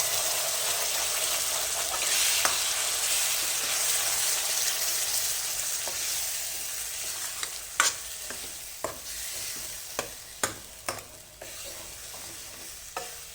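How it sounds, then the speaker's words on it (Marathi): Ground garam masala and boiled onion sautéing in a pan with bay leaf: a strong, continuous close sizzle with stirring, then a series of sharp spoon scrapes and taps against the pan as the hiss eases. "हा गरम मसाला थोडा परतून झाला"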